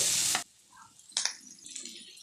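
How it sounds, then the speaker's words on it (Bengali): Onions browning in oil share the pan with cashew nuts, a soft sizzle broken by a loud stirring scrape at the start and another scrape partway through, close and without talk. "এখানে পেঁয়াজটাকে আমি একটু ব্রাউনিশ করে ভেজে নিচ্ছি"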